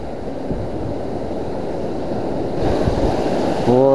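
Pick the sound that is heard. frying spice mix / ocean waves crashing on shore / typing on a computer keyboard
ocean waves crashing on shore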